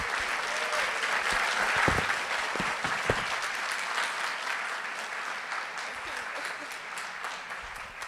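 Audience applause for student speakers at a university Latinx achievement ceremony: continuous, fairly distant clapping from a large crowd that gradually tapers, with a few sharp individual claps and faint voices mixed in.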